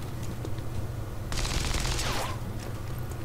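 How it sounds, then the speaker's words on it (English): Pistol fire in the XCOM 2 video game: a sharp burst of gunfire starting midway, loud and crackling for about a second over a low game soundscape, then fading away. "Fire your pistol."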